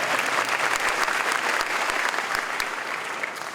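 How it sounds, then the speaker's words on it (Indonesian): A crowd of officer cadet candidates applauds at a ceremony, a dense, steady wash of many hands clapping at close range that eases slightly toward the end. "Oke, kita berikan tepuk tangan"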